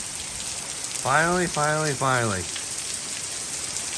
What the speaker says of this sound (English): Oh yes, it is raining.